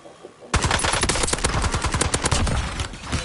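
Rapid, loud automatic gunfire from a deployed sentry turret in the Warzone video game, a dense continuous burst of shots that starts abruptly and carries on for about three seconds.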